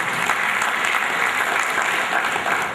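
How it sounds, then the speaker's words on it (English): Steady, close applause from a conference audience at a Nigerian quantity surveyors' annual distinguished lecture in Lagos, continuous dense clapping throughout with no speech. "can we give the service of the Lagos chapter a round of applause?"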